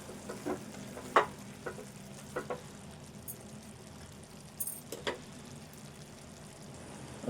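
Spices being stirred into a frying Telangana boti (goat tripe) curry in a pan, a steady low sizzle with a few sharp scrapes and clinks of the spoon scattered throughout, no voices.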